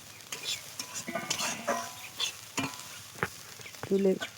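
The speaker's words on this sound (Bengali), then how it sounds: "নেড়ে চেড়ে ভেজে নেবো।" Soft sizzling of beans stir-frying in a pan with a spatula scraping and stirring, intermittent clinks of utensils against the cookware, fairly quiet.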